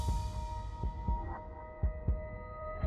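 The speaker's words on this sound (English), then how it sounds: "my heart pounding in my ears" A heart pounding in the ears, heard as low, thudding heartbeats in uneven pairs over a steady droning hum, close and muffled.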